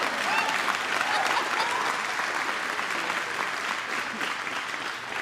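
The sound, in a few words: applause at GM Factory Zero opening event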